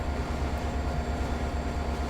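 A continuous low rumbling drone of a Caltrain F40PH-2CAT locomotive running in Train Sim World, steady and unbroken with a faint hum on top.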